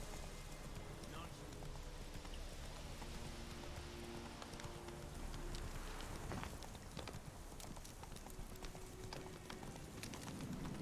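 Hooves thud as the horse Roach gallops in the video game The Witcher 3. The rapid, steady clip-clop runs throughout, alongside rain-like patter and a voice.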